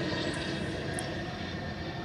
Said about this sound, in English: here goes another jet